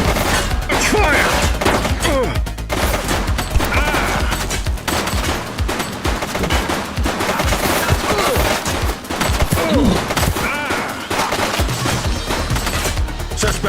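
Sustained, loud automatic gunfire from The Precinct police action video game, heavy overlapping bursts with crashing impacts, continuous from start to finish with no voices.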